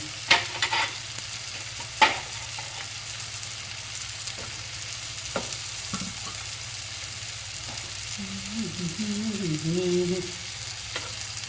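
Masala spices fry in oil in a pan for stuffed bitter gourd, giving a steady low sizzle with a few sharp clinks of a spoon and scraping stirs, and a brief faint hum near the end.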